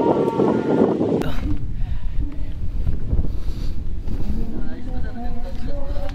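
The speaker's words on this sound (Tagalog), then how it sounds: "Ang lakas ng hangin dito." Strong wind roars steadily across the microphone on a hilltop in Binangonan, Rizal, a dense, rumbling buffeting with no quiet moments.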